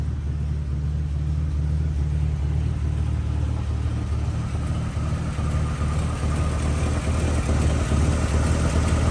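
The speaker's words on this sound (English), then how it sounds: "Nice quiet purr coming from the inline 8." A 1954 Pontiac Chieftain's inline-eight engine idles smoothly and steadily, a low, even purr with a soft rumble throughout, close by and with no voices.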